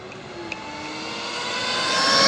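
A 1/7-scale Big Rock RC car on 4S power with a Castle Cobra 5 ESC at open throttle, its motor whine climbing steadily in pitch and growing louder as it nears.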